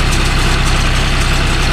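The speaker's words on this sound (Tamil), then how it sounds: "குமார் வண்டி ஜாண்டியரை ஓட்டி கொண்டிருக்கிறார்." A John Deere 5105 tractor engine runs steadily at a loud, close idle, its low throbbing drone even and continuous, working with a baler in a groundnut field.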